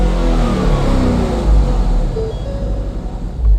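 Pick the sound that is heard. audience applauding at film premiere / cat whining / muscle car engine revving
muscle car engine revving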